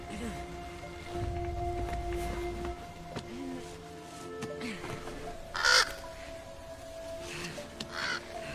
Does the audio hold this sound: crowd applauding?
no